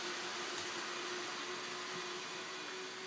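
Cooling fans on an RGBW LED controller test rig whir as a steady, broadband hum with a faint tonal whine, constant and moderately close, with no voices.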